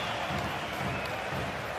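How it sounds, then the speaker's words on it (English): Ice hockey crowd reacting to a big hit in a Växjö game, a loud, sustained arena roar with a dense wash of cheering and clapping. "You could hear the crowd's reaction."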